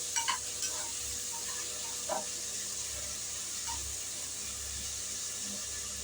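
Onions, green chilli and tomatoes sauté in a pan for mutton biryani, giving a steady, soft sizzle with occasional stirring scrapes, no voices.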